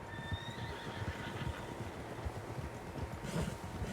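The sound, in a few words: horses neighing in Red Dead Redemption II video game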